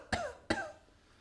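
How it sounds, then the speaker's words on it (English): Two sharp coughs about a third of a second apart, close and fairly loud, each trailing off quickly, then quiet. "That makes me want to cough."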